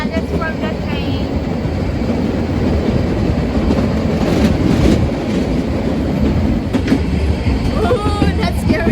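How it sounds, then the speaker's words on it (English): A train rolls past near the Brocken in a steady, loud broadband rumble lasting throughout, with faint rail clatter and people talking over it. "that's from the train."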